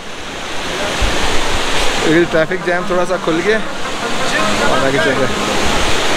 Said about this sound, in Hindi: ये आप बिल्कुल साथ आबशार आ रही है, उसी का पानी फ्लो कर रहा है